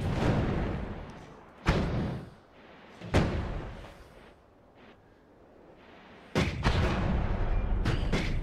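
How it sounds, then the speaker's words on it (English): Spell blasts from the greater magic missile in the Noita video game, several loud booming bursts with rumbling tails spaced a second or more apart, ending in a sustained roaring barrage. "it's the greater magic missile"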